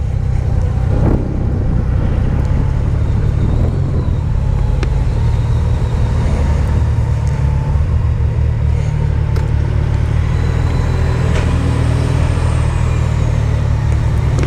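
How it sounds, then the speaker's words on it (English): Honda Goldwing motorcycle cruising on a highway, a steady loud low engine drone mixed with heavy wind and road rumble throughout, with no talking. "I'm enjoying my ride out on the Goldwing."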